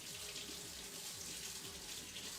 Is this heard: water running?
yes